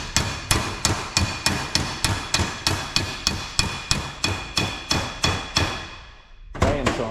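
Steady hammer blows drive a U-joint into the cap of a Jeep axle shaft held in a vise, about twenty sharp metallic strikes in an even rhythm, close and loud, then a brief pause before two more hits.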